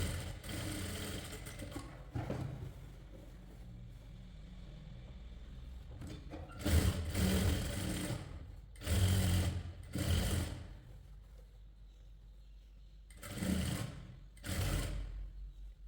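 A sewing machine stitches a Pakistani-style sleeve onto a short kurti, running in several loud whirring bursts of a second or two each, separated by quieter pauses while the fabric is repositioned.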